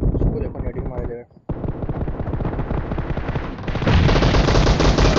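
Sustained M4 rifle fire in the BGMI mobile battle game, loud dense bursts of rapid shots running almost continuously, with a brief gap, then heavier fire near the end.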